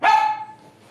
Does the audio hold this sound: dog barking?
yes